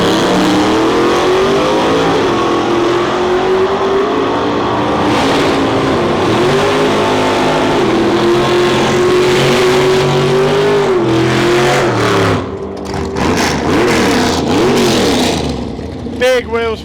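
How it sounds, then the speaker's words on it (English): A drag racing car launches off the line at Santa Pod Raceway with heavy wheel spin, engine roaring loud and sustained, pitch climbing and dipping, then dropping away near the end as a commentator speaks over it. "Big wheel spin from Sean on that launch on the right"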